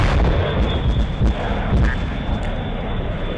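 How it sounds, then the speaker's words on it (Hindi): Missiles fired in a fighter-jet combat video game, a continuous loud roaring, booming barrage of launches and blasts that stays dense and steady throughout, with no speech. "इसने अपने निशाना को साध कर मल्टीपल मिसाइल छोड़ दिया है"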